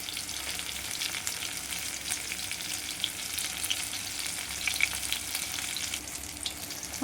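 Ash gourd fritters frying in a pan, a constant crackling sizzle of hot oil with brief pops and soft stirring, close and steady throughout.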